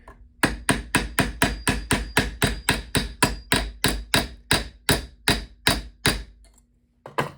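The final rivet is hammered into an angle piece, about twenty sharp, evenly spaced metallic blows in a quick steady rhythm, close and loud, with no talking.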